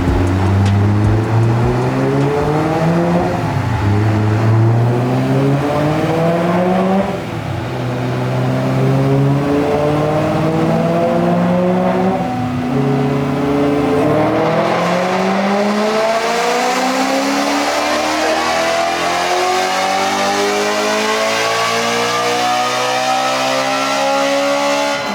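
A BMW E92 M3 with a stage 2 E85 tune revs hard on a dyno, its engine note climbing through long loud pulls with a brief dip, then screaming up to a high-pitched peak near the end.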